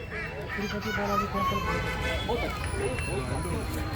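Ducks honk and quack in a loose, noisy cluster close by, with people talking over and around them.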